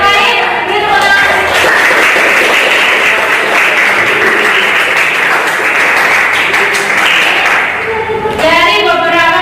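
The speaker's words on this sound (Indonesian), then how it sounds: "Beri tepuk tangan." A class of students breaks into applause in a classroom, a loud sustained burst of clapping from many hands, with voices audible at the start and end.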